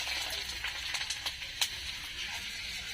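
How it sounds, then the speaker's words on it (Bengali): Dried red chilies, whole garlic cloves and bay leaves dropped into hot oil for a cabbage and meat curry, a close, steady sizzle broken by a few sharp crackles and spits. "তেল গরম হয়ে গেছে, দিয়ে দেবো আমি শুকনো লঙ্কা, কয়েকটা গোটা রসুন, তেজপাতা,"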